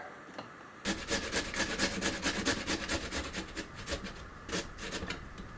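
Beets rubbed against a cheese grater: after a brief quiet start, a close, steady run of rasping scrapes in a quick back-and-forth rhythm, loud and continuous, with no talking.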